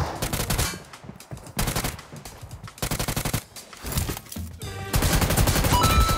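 Gunfire rattles through a team deathmatch in a video game, with shotguns among the weapons: loud, close bursts of repeated shots in uneven clusters separated by short gaps, ending in a sustained noisy stretch over game sounds.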